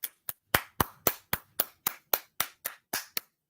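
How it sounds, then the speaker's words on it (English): A dozen separate hand claps, sharp and evenly spaced, ring out one after another in a quiet room, more like a few people clapping over a call than a full audience. "Everybody unmute and give him a round of applause for that."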